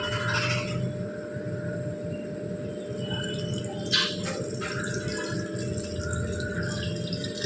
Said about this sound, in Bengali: এবার আমরা এর মধ্যে দিয়ে দেব পরিমাণ মতো জল।